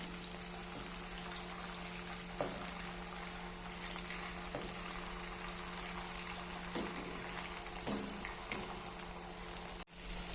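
Chicken 65 frying in hot oil gives a steady, soft bubbling sizzle with occasional small pops and clinks, continuous and fairly quiet throughout.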